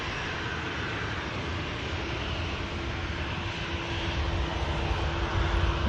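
A passenger jet rolls along the taxiway for departure at Manchester Airport, a steady loud engine roar with a faint whine, continuous and unbroken throughout.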